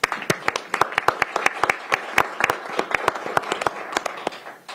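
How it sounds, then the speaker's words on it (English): Sparse, distinct hand claps from a small group at a council meeting, individual claps heard clearly in an irregular pattern that fades out toward the end. "Let's give them a round of applause."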